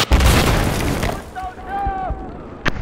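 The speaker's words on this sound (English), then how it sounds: "Oh, hey, a cruise missile." A cruise missile detonates in Battlefield 4 naval combat, a loud booming blast up front that rumbles and fades, followed by a sharp pop near the end, with voices talking over the game.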